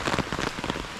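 Rain falling during a walk in the UK, a soft steady patter of drops on surfaces with occasional sharper taps, fairly close and without talk.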